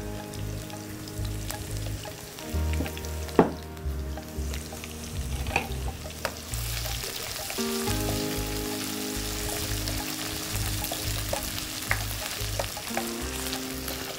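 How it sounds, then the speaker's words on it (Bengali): Chopped onion and garlic frying over low heat in a pan for a small-fish curry, a steady crackling sizzle that runs throughout with scattered spatula taps and scrapes, close and even, no one talking. "দর্শক পেঁয়াজ আর রসুন যখন দিবেন আপনি ওইটাকে পুরো বাদামি না হওয়া পর্যন্ত ভাজবেন"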